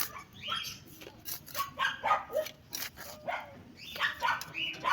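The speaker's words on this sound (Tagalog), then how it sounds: "Maingay yung aso nila." Repeated barking from a dog at some distance, a series of sharp yaps in uneven bursts, with faint background noise.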